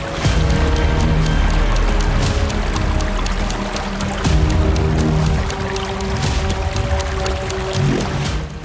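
River water in a jungle flowing loudly and steadily, with splashing and gurgling throughout and a low rumble beneath.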